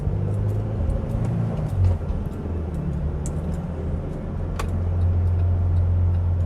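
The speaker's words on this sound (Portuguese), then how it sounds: "E agora vamos dar uma volta aqui na cidade e depois na rodovia com essa S10" A 2013 Chevrolet S10 LTZ flex 4x2 pickup with a manual gearbox rolls through city streets. Its engine holds a steady low rumble close by, rising slightly toward the end, and there is no talk.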